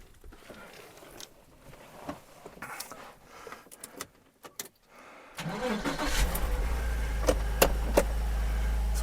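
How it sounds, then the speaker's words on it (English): A Porsche Boxster 986 engine cranks and catches after a few quiet clicks and shuffles, then settles into a steady, loud idle with a deep low rumble close by. "So we'll start the car."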